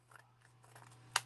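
Scissors close once in a single short, crisp snip near the end, trimming a little off the bottom of a craft panel, quiet and close.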